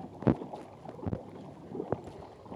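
A kayak paddled on a lake during a race: soft watery paddle strokes and splashes come a few times at irregular intervals over faint wind noise, close and quiet.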